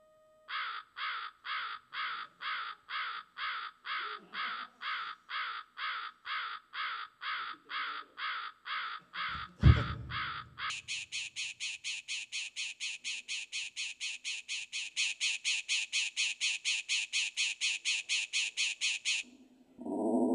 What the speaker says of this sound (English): Can always use more crow.